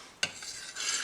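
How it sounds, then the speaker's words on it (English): Citrus peel is stirred through sugar syrup and water, a short clack at the start followed by soft, close scraping and sloshing that grows slightly louder toward the end. "stir this up"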